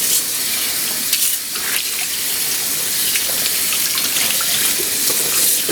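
Hot water runs from a tap in a steady, splashy gush with small surges while sofa pillows are being cleaned, close and loud, and no voices come through.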